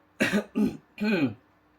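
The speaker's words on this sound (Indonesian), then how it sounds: "Bentar batuk dulu" A person coughs three times in quick succession, close and fairly loud, with harsh throat-clearing bursts and no other sound.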